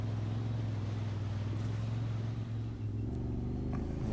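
Off-road machines on a group trail ride through shallow water crossing near Marmora, engines droning steadily and loud throughout, with a low continuous rumble and faint splashing.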